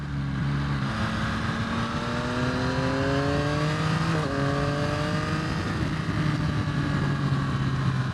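A 2023 Yamaha XSR 900 motorcycle accelerates hard through the gears, its engine note climbing steadily in pitch, then dropping at a shift and rising again, loud and close with wind noise.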